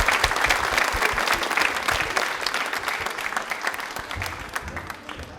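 Enthusiastic clapping from a studio audience on a televised quiz show, loud and continuous at first and tapering slightly toward the end.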